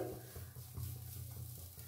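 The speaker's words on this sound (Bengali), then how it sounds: "সিম করে ভাজছি" Papaya pieces frying slowly in a wide wok over a low flame, with a faint, soft sizzle and occasional gentle stirring scrapes, quiet and close with no talking.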